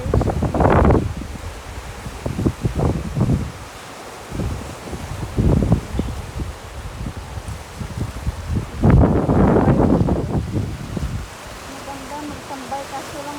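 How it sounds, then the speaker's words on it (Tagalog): Strong wind at a beach in Southampton, Bermuda buffets the microphone in heavy gusts, with rushing noise and low rumbles rising and falling, and high-tide water in the background. "Mahangin dito"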